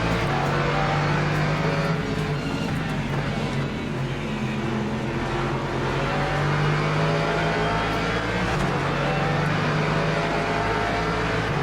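A pack of GT race cars in Le Mans Ultimate roar off the grid together, a loud, dense, continuous engine drone with rising revs that fills the whole stretch.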